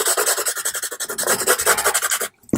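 A finger rubs paint across a painting surface in quick repeated strokes, making a close, dry rasping sound much like sanding, with a short pause near the end.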